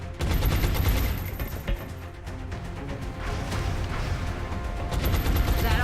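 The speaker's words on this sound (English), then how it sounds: "So, I'm under fire." Gunfire from the XCOM Enemy Within video game rattles in rapid bursts of shots over a continuous loud battle backdrop, close and dense, with someone talking over the action.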